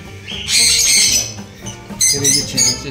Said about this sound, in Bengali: চিক দেখো, লাভবার্ডের বাচ্চা